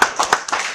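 Loud, close hand claps greet a keynote speaker at an IEEE conference in Bhopal, a brief burst of several quick claps.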